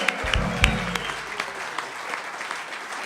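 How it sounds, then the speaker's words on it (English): Applause from the audience at a live evening broadcast in a small venue, clapping that starts loud and close and then slowly thins out over a few seconds. "We didn't even have to tell the audience to give themselves a round of applause. They already did it."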